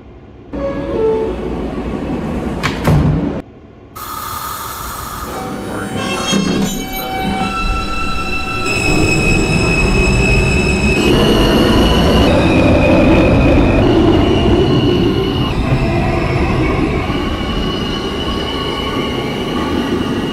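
An R160A Alstom subway train on the Q line pulls away in the OpenBVE train simulator, its electric motors whining up through rising stepped tones with wheel squeal and steady rolling rumble, loud and close.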